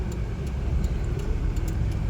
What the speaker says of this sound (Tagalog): Taas kayo kaya ang traffic dito.